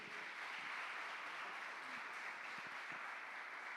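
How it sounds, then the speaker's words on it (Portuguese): A church congregation applauds during an evangelical worship service, a steady wash of many hands clapping, fairly distant and even, with faint tones drifting underneath. "Aplauda o Senhor mais uma vez."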